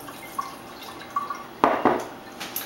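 Dry white wine poured over a turkey being prepared for roasting, heard as soft close splashes and drips in short irregular bursts, a couple of them fuller and louder, with no talking.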